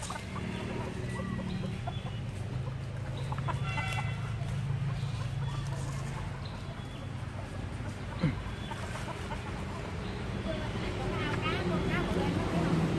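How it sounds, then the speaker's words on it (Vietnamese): A brooding hen clucks among a dense flock of chickens at a temple yard in Soc Trang during the Chol Chnam Thmay new year, with rooster crowing and steady crowd noise and voices around. "Con gà này đang ấp."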